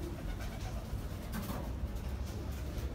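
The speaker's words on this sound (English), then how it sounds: "nesting birds." Pigeons nesting inside Durban City Hall give faint, soft cooing calls within a steady low background rumble, fairly distant and partly masked.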